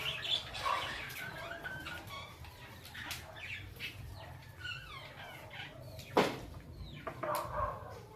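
Nearby birds call with clucks and sharp chirps, and a brief flutter of wings stands out against soft background noise.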